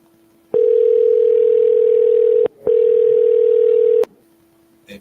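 A telephone call goes unanswered, with two long, loud, steady ringback tones separated by a brief gap, then a faint low hum.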